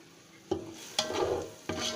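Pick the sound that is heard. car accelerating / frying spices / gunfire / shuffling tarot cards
frying spices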